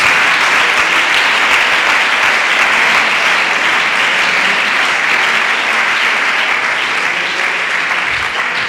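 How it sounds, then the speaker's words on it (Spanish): Loud, sustained applause from a church congregation at a Pentecostal service fills the space evenly from start to finish, a dense wash of many hands clapping together without a break. "Dele ese aplauso bien fuerte al Señor Jesús"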